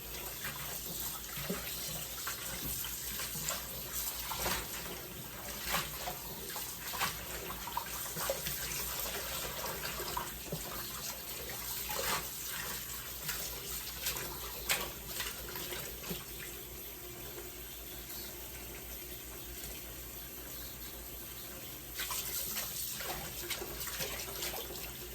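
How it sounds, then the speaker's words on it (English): Tap water runs steadily into a kitchen sink as collard greens are washed a second time, a continuous close splashing rush with small sloshes and handling sounds over about twenty-five seconds and no talking. "I'm gonna wash them again. This is the second wash."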